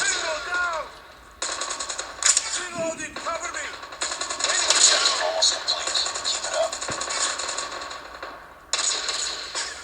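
Gunfire in a mobile shooter game such as CODM or PUBG Mobile: bursts of rapid shots and single cracks mixed with in-game effects, with someone talking over the action.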